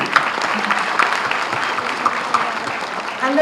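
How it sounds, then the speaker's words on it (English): Brief burst of audience applause at the inauguration of a South Asian film festival in Goa, moderately loud clapping from a seated crowd with a voice heard near the end. "So please, a round of applause"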